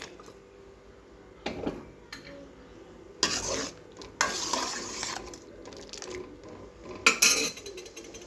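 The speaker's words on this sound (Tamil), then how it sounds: "இந்த டயத்தில் புளி கரைசல் சேர்த்துக்கலாம்" Tamarind water being stirred into a simmering brinjal and drumstick sambar, with several separate bursts of pouring, splashing and ladle scraping against the pot between quieter pauses, close up.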